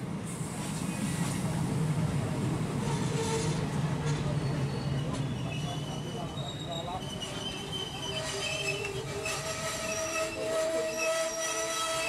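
An Eastern Railway train runs on rails between Farakka and Malda Town, heard from onboard as a steady rumble with high, drawn-out wheel squeals across the whole stretch.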